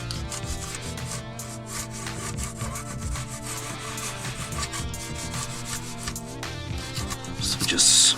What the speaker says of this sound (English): Just scrape all around.